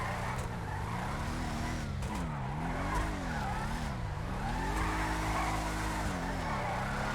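Benny's Bravado Gauntlet Classic Custom drifting in GTA 5, its engine note rising and falling while the tires squeal and skid steadily throughout, loud and close with no pauses.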